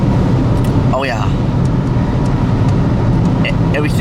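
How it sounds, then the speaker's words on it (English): Road traffic on a snowy road during a late-season snowstorm, a steady rumble of passing cars filling the background while people talk close by over it. "And we still got a decent amount of traffic over here though."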